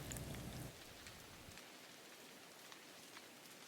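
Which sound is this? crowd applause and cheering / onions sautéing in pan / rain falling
rain falling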